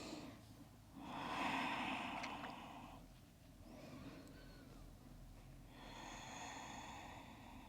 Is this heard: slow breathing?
yes